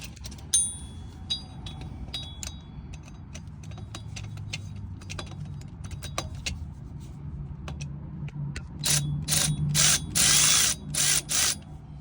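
Ratcheting and mechanical clicking from tightening bolts on a 2005 Dodge Dakota 4.7 V8 4x4, a string of close, sharp clicks that thicken into loud bursts of fast ratcheting toward the end, with no talking.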